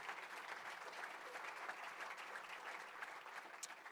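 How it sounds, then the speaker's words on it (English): A round of applause for a contributor at a G21 Forum session: steady, even clapping from an audience, heard alone and fairly distant throughout. "I reckon he might deserve a round of applause"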